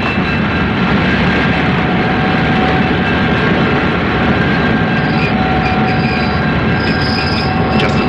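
A train rumbles past loudly and continuously, its wheels squealing and clattering on the rails in a steady, close roar.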